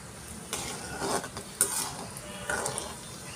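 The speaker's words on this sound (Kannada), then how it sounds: "ಈಗ ತುಪ್ಪ ಕಾದಿದೆ, ಇದಕ್ಕೆ ನಾವು ಗೋಡಂಬಿ ದ್ರಾಕ್ಷಿ ಹಾಕಿ ಕರೆದು ಎತ್ತಿಟ್ಕೊಂಡ್ಬಿಡೋಣ" Cashews and raisins frying in hot ghee in a pan, a soft steady sizzle with occasional stirring clinks and scrapes, fairly quiet and close, no talking.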